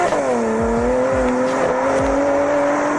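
A 2007 Porsche Cayman mid-engine sports car engine drones steadily with a smooth, rising tone, close and loud, with a few low thumps underneath and no talking.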